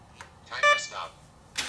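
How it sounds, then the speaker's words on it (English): Electronic speed control of an E-flite 1.5m P51 Mustang model plane beeping during throttle programming, a short series of faint electronic tones, close but quiet. "Once it does some beeps,"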